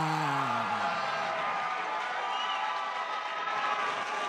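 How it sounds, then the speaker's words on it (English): A crowd cheers and roars steadily at a Sparta 93 kickboxing event, a dense continuous wash of arena noise that stays loud for the whole stretch, with a brief whooping shout near the start. "The crowd's getting pumped up now."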